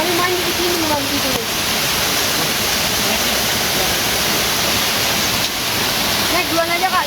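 River water rushes loudly and steadily at a bathing spot on the Torean trail of Mount Rinjani. The roar is broad and unbroken, and people talk faintly under it.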